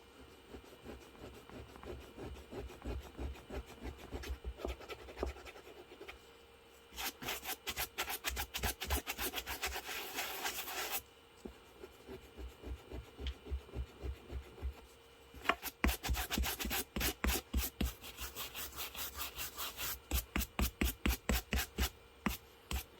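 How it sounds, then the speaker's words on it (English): A hard tool rubs against black suede ankle boots to loosen caked dirt, making close, quiet rasping strokes in rapid rhythmic bursts with short pauses between them. "using some type of hardened portion to just rub up against the suede in order to release some of that caking"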